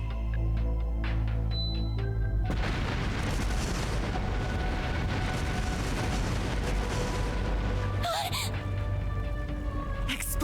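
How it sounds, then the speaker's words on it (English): Explosive artifacts scattered through a palace detonate in the video game Trails through Daybreak, a loud sustained rumble of blasts and booms filling the scene over a musical bed, with a sharper burst near the end. "Explosive artifacts!"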